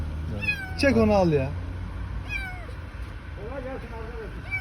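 A tiny kitten trapped inside a vehicle engine gives a run of close, loud, high wavering meows, with people talking over and around its cries against a steady low hum.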